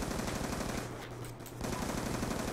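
Rapid, sustained gunfire from an online shooter video game crackles continuously at moderate volume, easing briefly midway before resuming.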